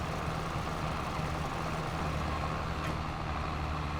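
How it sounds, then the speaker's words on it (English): A JCB vehicle engine in Farming Simulator 22 drones at a steady, moderately loud idle or cruise, with a constant low rumble that never breaks over the whole stretch and no talk. "Motor sounds good, everything sounds good"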